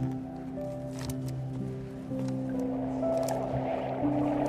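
A humpback whale sings underwater in long, sustained tonal moans that step and glide between pitches, layered over a soft, steady underwater wash.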